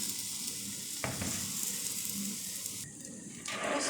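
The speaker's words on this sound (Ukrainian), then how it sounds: "Так, продовжую смажити." Zucchini pancakes sizzle steadily in a hot frying pan, with a few soft clinks of a utensil against the pan.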